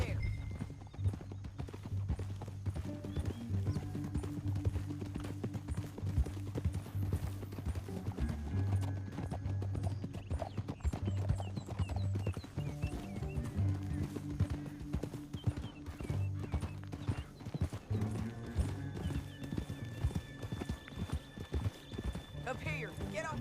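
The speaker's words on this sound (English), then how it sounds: "Up here, get off your horse." Horses galloping in the Red Dead Redemption 2 video game, a steady rapid clip-clop of hooves running through the whole stretch with an occasional whinny, heard under ongoing talk and a low, droning score.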